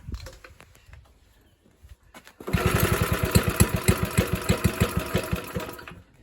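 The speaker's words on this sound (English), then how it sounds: "we've got a fire, so I think we just need to leave it off choke, and we've probably got to adjust the carburetor" A Suffolk Squire lawn mower engine from a barn find, running off choke with its carburetor needing adjustment. It sputters a few times, then catches and runs with rapid, loud, even firing pulses that stay close by.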